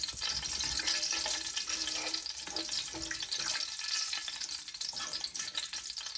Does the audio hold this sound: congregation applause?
no